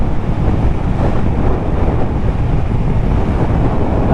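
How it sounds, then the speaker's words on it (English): Strong wind buffets a motorcycle vlogger's camera microphone, producing a loud, continuous low rumble and roar with no break, completely filling the soundscape. "It's a bit windier today though"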